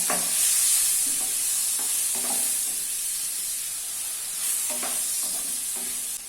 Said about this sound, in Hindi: अभी पनीर को सभी साइड से मीडियम फ्लेम पे लगभग 3 से 4 मिनट तक फ्राई कर लेना है।